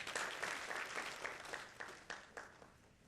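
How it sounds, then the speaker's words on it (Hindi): A small crowd applauds, the clapping faint and distant, thinning out and fading toward the end. "अपने लिए एक जोरदार तालियां हो जाए प्लीज"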